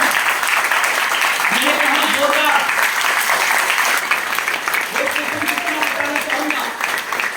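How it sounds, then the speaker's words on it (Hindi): Loud, sustained audience applause at a gathering, dense and steady throughout, with a voice speaking faintly underneath. "एक बार जोरदार तालियां होनी चाहिए।"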